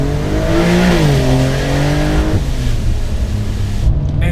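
Exhaust of a Porsche 911 Carrera 992.2 revving hard, heard close with a window down, a loud continuous engine roar climbing and dipping in pitch as the revs rise and fall.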